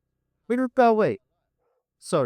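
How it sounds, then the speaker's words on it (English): A pet dog barks close by in a home on a boat in the UK, giving two quick barks and then another after a short pause, mixed with a voice. "that's my dog"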